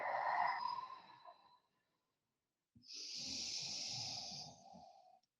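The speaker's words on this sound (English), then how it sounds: "Take some deep breaths here." Deep breathing during a gentle yoga class, a long airy exhale, a pause of silence, then another drawn-out breath, close and fairly soft.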